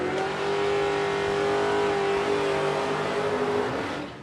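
A 1966 Ford Mustang revs hard at a drag strip, its engine a loud, sustained roar held steady for about four seconds before easing off at the end.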